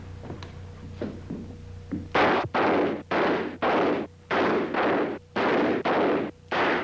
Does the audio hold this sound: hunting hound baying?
no